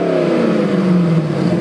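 A C5 Corvette fitted with a Borla S-type catback exhaust revs loudly up close, its engine note climbing and then easing in a smooth, sustained tone with no talk over it.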